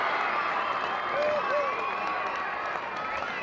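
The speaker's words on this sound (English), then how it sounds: "As the crowd really starts to come into it here." Crowd noise with cheering and applause at a junior under-14 boys Australian rules football grand final, a broad steady roar from the stands with a whistle-like tone, heard alongside a commentator's voice.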